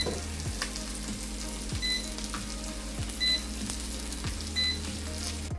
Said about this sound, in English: I'm gonna roast it in my air fryer for about 10 minutes